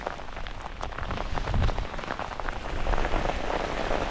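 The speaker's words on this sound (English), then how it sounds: "And here comes the hail." Rain mixed with hail pours down outdoors during a storm at an overnight fly fishing camp, a dense steady patter of drops and scattered harder hits, loud and close, with no voices.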